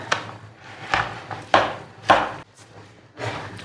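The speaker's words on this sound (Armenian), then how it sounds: "մի քիչ էլ մարոլ կտրատեմ" Fresh parsley being chopped with a knife on a cutting board in a home kitchen while dolma boils nearby; five sharp, fairly loud chop bursts spaced about half a second apart, with no talking.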